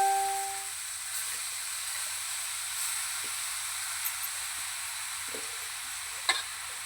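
Grated carrots sizzle in hot ghee in a kadai, a soft continuous frying hiss with a few faint stirring clinks and taps, quiet and steady.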